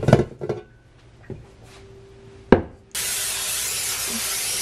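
A burst of cooking spray hisses steadily onto a pan for granola bars and runs to the end. It follows a few sharp knocks and clatters of kitchenware.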